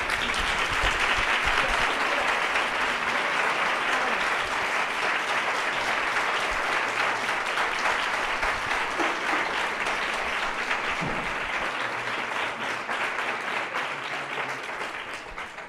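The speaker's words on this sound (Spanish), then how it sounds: "les pido un aplauso para nuestras invitadas" Sustained audience applause for two guest authors at a literary festival session, a dense, even wash of clapping from a sizeable crowd that carries on for several seconds and slowly tapers off.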